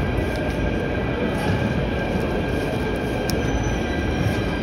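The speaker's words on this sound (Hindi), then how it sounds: "मेट्रो पहुँच गए, अब जा रहे हैं घर।" Metro train rumbling steadily through a station, a continuous loud rail roar with faint wheel squeal, heard alone without talk.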